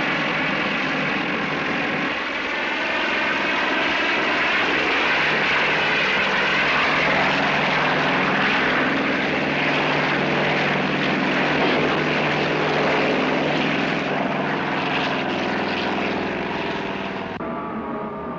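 A propeller-driven airplane drones steadily and loud throughout, its engine holding a near-constant roar with no voices, fading slightly at the very end.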